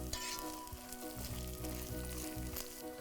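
Ginger garlic paste fries in a pan for chicken tikka biryani, giving a steady, close sizzle over a low background hum, with a few brighter crackles.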